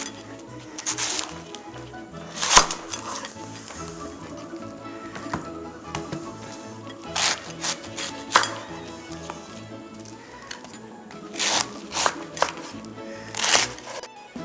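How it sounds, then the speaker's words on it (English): A knife chops cabbage coarsely on a board, giving irregular close taps and thuds spaced a second or two apart, some crisp and sharp, over a quiet kitchen background. "We shall cut the cabbage."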